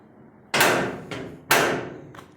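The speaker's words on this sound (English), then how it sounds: "Door latches and all work good on this thing." A Chevrolet C10 truck door is shut twice, each a loud, close metallic thump followed by a quick latch click, with a short pause between the two closings.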